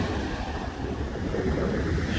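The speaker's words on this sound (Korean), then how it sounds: "샤 철석 샤 철석 파도 치는 거 잘 들으셨죠?" Ocean waves breaking on Gyeongpo Beach in Gangneung: a continuous, close roar of surf and wash with wind noise on the microphone, heard alone.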